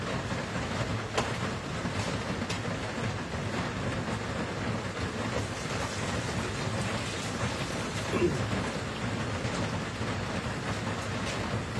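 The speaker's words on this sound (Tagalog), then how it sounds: "Ang ulan po ay walang tigil." Heavy continuous rain pouring down steadily, a dense unbroken hiss of drops on surfaces, with no voices.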